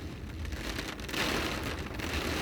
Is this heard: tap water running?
no